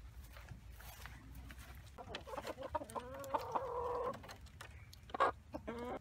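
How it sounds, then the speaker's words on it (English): Backyard chickens cluck and squawk in a run outdoors, a loose chorus of calls building in the middle with one sharp cry near the end. "Okay, the chickens are out."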